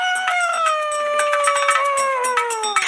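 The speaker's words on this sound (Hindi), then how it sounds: "ये तो लोमड़ की आवाज है।" A fox howls in a story setting, a long sustained wailing cry that slowly falls in pitch, with overlapping animal calls and yips layered throughout, loud and close with no talking.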